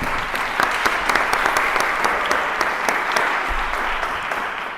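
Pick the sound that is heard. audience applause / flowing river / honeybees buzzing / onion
audience applause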